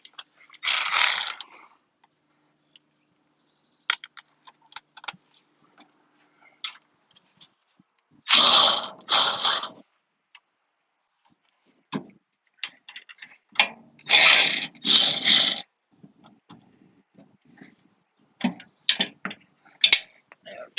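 A ratchet snugs bolts during a front shock install on a 2018 Toyota 4Runner SR5 fitted with Fox 2.5 DSC remote reservoir shocks. Several short bursts of rapid clicking come close up and are separated by quiet pauses and faint handling.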